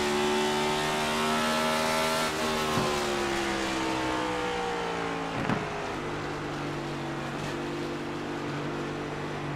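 Cup Series stock car engine in the iRacing sim at New Hampshire, a loud continuous droning roar that rises and falls with throttle and braking through a corner, with no gear shifts.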